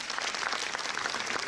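Audience in a screening hall applauding local sponsors at a film premiere, steady dense clapping filling the room throughout, fairly close and continuous with no pauses.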